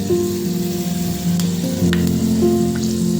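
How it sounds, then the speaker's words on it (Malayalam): Fenugreek seeds crackle in hot sesame oil at the start of a homemade chilli pickle, producing a loud, close, continuous sizzle with a few brief pops over about three seconds, no talking. "രണ്ട് ഉലുവ പൊട്ടിയതിന് ശേഷം ഉലുവ പൊടിച്ചു കഴിഞ്ഞാൽ"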